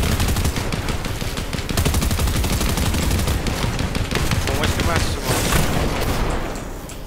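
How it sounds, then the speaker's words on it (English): Dense automatic gunfire rattles nonstop through a Fortnite competitive tournament match. Rapid shots and bursts overlap loudly for the whole stretch, with players talking over them. "The guy on top is shooting me"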